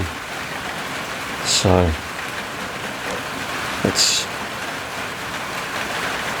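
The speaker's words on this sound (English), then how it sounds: "on this lightly raining, overcast day" Light rain falling on a tin roof over a workshop on an overcast day, a soft steady patter throughout, with someone speaking briefly and a couple of short clunks.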